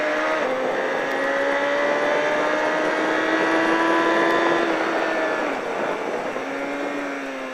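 A car accelerates hard around a race track on a track day, its engine droning loud and close with a rising, sustained tone that dips briefly as it shifts, then climbs again.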